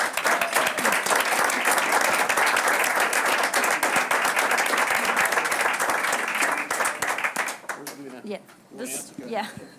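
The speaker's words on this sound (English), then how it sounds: "Please, another big round of applause for these guys" A crowd at a school board special action meeting gives a long, dense round of applause, loud and steady, then it thins out and tails off near the end as a voice comes in.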